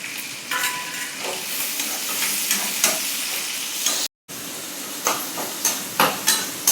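Onion and tomato sautéing in a pan for wheat rava kichidi give a steady close sizzle, with scrapes and taps from stirring throughout and a brief cut near the middle.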